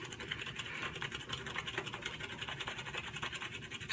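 A shaving brush whips lather around a soap bowl of Some Irish Guys stout shave soap, a steady, close, rhythmic scratchy swishing that continues without pause.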